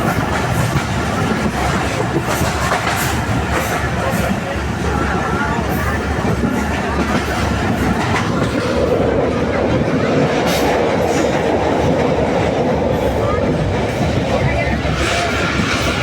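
Inside a moving passenger train carriage with people standing, the wheels keep up a loud, continuous rumbling clatter on the rails, a rhythmic clickety-clack running throughout beneath faint crowd murmur.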